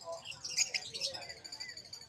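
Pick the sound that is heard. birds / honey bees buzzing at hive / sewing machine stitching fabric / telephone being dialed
birds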